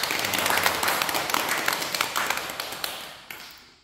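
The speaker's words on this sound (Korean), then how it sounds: "여러분 박수 한번 부탁합니다." An audience claps at a talk on married life, the sound dense at first and then thinning out. Separate claps grow more distinct as the applause slowly fades.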